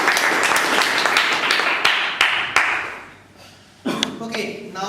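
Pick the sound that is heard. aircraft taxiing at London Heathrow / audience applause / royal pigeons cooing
audience applause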